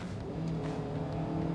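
A Hyundai Exter engine is floored at full throttle while driving, a strained, droning rev heard from inside the cabin, steady and moderately loud for a brief moment.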